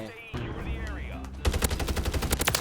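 In Call of Duty: Modern Warfare, an SOA Subverter (ARX-200) rifle opens fire after a short spoken remark, unleashing a rapid, loud burst of automatic gunshots that rattle on steadily until the end.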